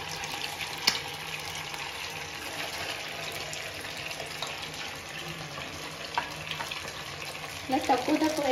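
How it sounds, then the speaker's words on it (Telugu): Palamunjulu, a traditional Andhra festival sweet, frying a few at a time in hot oil, giving a low steady sizzle throughout, with a few small pops and a brief louder bubbling burst near the end. "ఒక్కొక్కటి కొద్ది నూనె వేడెక్కాక ఒక్కొక్కటి వేసుకుని వేపుకుందాము"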